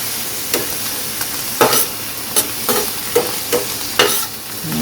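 Roughly chopped garlic sizzles in sesame oil in a pan, a steady hiss broken by sharp scraping stirs at irregular intervals, close and clear with no talking.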